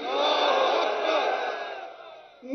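A large crowd at a Pakistan Tehreek-e-Insaf political rally roars back a slogan in unison, a loud sustained chorus of shouting voices that swells, then fades slightly before surging again.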